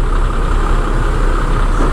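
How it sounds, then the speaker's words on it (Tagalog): Road traffic near the Skyway Stage 3 construction at Quirino Interchange: a dense, steady rumble of idling trucks and car engines, loud and continuous with no break. "Traffic."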